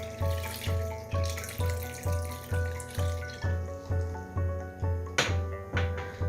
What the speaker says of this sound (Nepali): र अब फेरि यसलाई एकचोटि मजाले चिसो पानीले धुनुपर्छ।